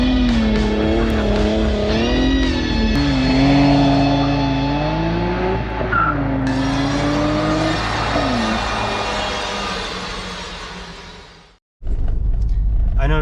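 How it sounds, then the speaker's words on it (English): A Nissan Skyline GT-R R33 V-Spec engine revs up and down again and again while the tires skid and squeal on ice, loud and close, as the car spins donuts. It cuts out briefly near the end. "probably just a bunch of donuts with the GTR on ice"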